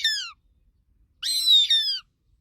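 Two shrill, descending hawk-like screeches cry out, the first short and the second longer and wavering, clear and alone against a silent background.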